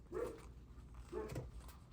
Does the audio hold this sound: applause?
no